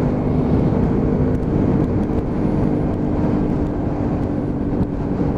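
A Lexmoto Venom 125cc motorcycle engine pulls steadily through the gears while riding, a continuous loud drone mixed with road and wind rumble, with no voices.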